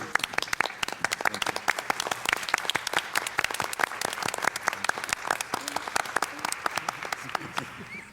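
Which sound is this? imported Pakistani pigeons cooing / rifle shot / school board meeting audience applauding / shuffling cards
school board meeting audience applauding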